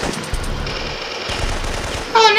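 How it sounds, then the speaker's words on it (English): Rapid gunfire bursts from the video game Syphon Filter 3, set at the docks, loud and continuous over game ambience, with a sharper chime-like blip at the end. "Oh, now he's shooting at you now."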